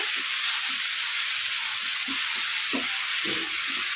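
Pundi (sorrel) leaves fry in a pan over a medium flame for chutney, giving a steady, close sizzle that holds all the way through, with a few soft stirring thumps underneath and no talking.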